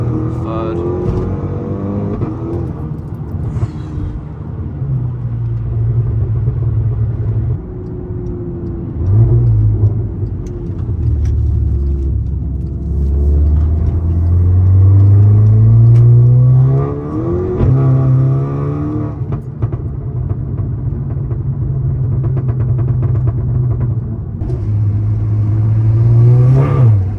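A Stage 3 Volkswagen Golf MK6 GTI accelerates hard through second and third gear, its engine note rising in repeated sweeps between shifts, loud and steady from inside the car, with a voice talking over it.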